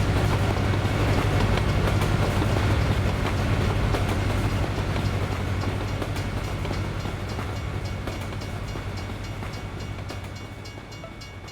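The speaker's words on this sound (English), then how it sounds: "Yeah, they've improved the train audio a lot." Train in American Truck Simulator rumbling past with a steady clickety-clack of wagons on rails, loud at first and slowly fading as it moves away.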